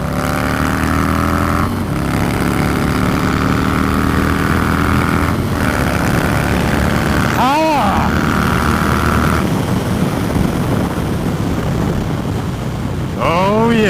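Harley-Davidson Low Rider S motorcycle with a 117 cubic inch engine, ridden on the road: a steady loud drone with rumbling low end, strong wind buffeting over the microphone, and rising tones as it accelerates.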